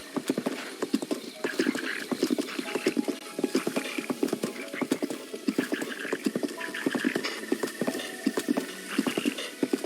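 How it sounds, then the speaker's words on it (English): Horse hooves clip-clop in a steady, brisk rhythm as a horse is ridden in the video game The Legend of Zelda: Breath of the Wild, with an occasional neigh, fairly close and clear. "I had to use the horse."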